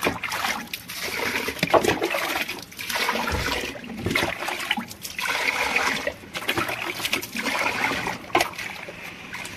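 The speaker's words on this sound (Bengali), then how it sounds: "আবার জল দেবে।" Water is poured and sloshed over pigeon feed grains being washed by hand in a container, with continuous splashing, trickling and swirling, close and moderately loud, without talk.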